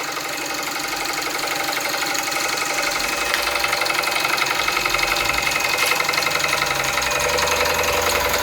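A small American Jensen model steam engine runs steadily with a fast, even chugging rhythm, loud and close, with no voices.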